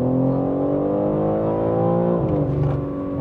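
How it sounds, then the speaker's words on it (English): A BMW M3 Competition xDrive pulls hard, its engine note climbing steadily and loudly in a smooth, rising drone, with a brief shift-like dip before the pitch keeps building, close and unbroken by speech. "That was a very quick acceleration."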